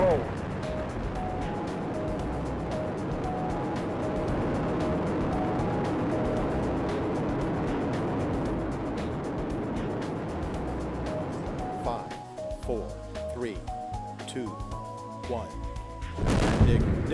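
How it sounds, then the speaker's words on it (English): Space Shuttle Atlantis lifts off in a heavy, continuous rocket roar that rumbles steadily and then turns rougher and crackling, while a voice talks over it. "Zero and liftoff of Space Shuttle Atlantis"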